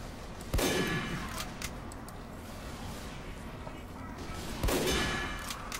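Gunfire in a shooter video game during a bomb-defusal round: two sharp, loud shots about four seconds apart, each with a broad ringing tail, over a steady game-ambience bed.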